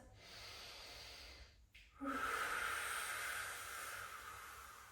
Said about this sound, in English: When you feel that shake, take one more cycle of breath.